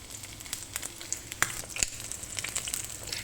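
Onion sautés in oil in a pan for a restaurant-style dal tadka, a steady crackling sizzle with scattered sharper pops and spatula scrapes, close and moderately loud, with no talking.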